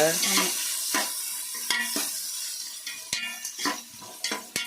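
Onions sizzle steadily while frying until golden for country chicken biryani in a large pressure cooker, with a spoon scraping and clinking against the pot in irregular strokes, close and fairly loud, no talking.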